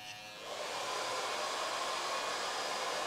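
An electric hair clipper with a zero guard starts up and runs as a steady, close, continuous buzz while cutting hair, with no talking.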